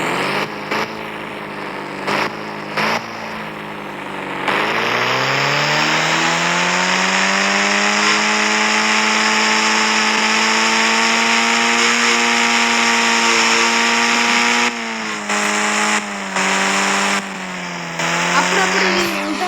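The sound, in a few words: boat engine in Indian Bikes Driving 3D video game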